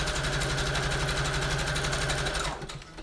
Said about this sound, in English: I'm gonna sew some lace on here